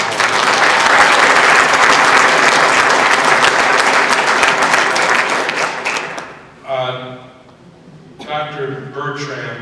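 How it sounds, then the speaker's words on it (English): Loud, dense audience applause at a community tribute fills the first six seconds, then fades as a voice starts speaking over the last few seconds. "Let's give him a round of applause."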